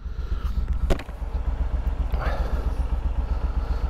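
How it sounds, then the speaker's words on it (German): Kawasaki VN15 motorcycle engine idling steadily at a fuel stop, a low continuous throb close by, with a brief sharp clatter near the one-second mark and some faint voice-like sound in the background. "So, letzte Mal tanken, das Motorrad."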